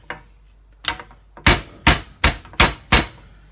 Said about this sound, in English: just use the hammer and tenderize the meat